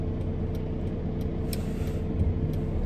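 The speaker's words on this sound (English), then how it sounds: "there's a car coming" A car on a road near a VW Crafter 3.5-ton van driving toward Brighton, UK, its steady engine and tyre rumble constant and fairly close, with no talk.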